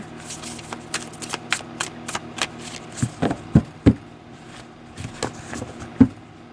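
A deck of tarot-style cards shuffled by hand at close range, a steady run of crisp riffling flicks with several louder slaps near the middle, and no voices over it.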